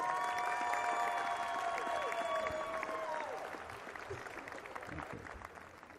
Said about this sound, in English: Please, a nice, fine round of applause for Linda Alvarado.